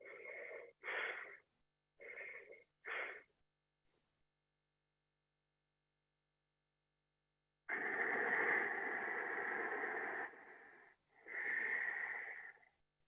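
A person imitates breathing that changes as someone falls asleep: four short, even breaths, a pause, then two long, heavy, wheezy exhales, close to the mic in a quiet room.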